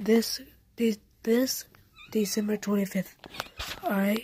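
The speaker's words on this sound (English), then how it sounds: "All right, that's my cat." A pet cat meows indoors while someone talks quietly nearby; the short meows come in between and under his words.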